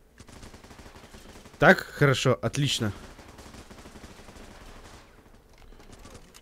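Bursts of rifle gunfire from the military shooter Running With Rifles, fired in a loud, tight cluster near the middle and backed by softer distant shots, while someone talks in Russian.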